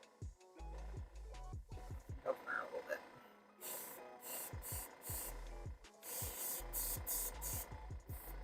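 An airbrush, clogged and sputtering, sprays gray water while a 3D-printed figure is being painted, giving bright bursts of airy hiss separated by pauses, with low thumps and handling noise in between.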